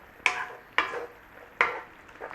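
Marsala wine hitting a hot pan for chicken Marsala, three sharp sizzling bursts that each flare loudly and fade, with faint pan and utensil clatter between.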